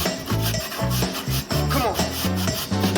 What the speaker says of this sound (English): I'm going to grate a plug of ginger